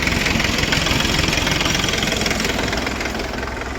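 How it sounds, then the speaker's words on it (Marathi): A tractor engine idles close by with a steady, loud, rattling chug that holds even throughout. "ट्रॅक्टर का चालू ठेवलाय"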